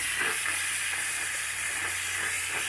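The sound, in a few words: steamer hissing during seat skin install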